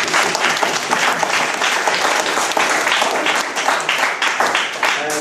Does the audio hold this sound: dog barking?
no